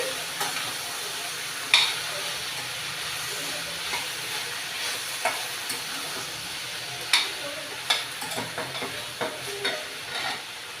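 Beans frying over a low flame, a steady soft sizzle broken by occasional clinks and scrapes as they are stirred in the pan, close and moderate in level, no talk.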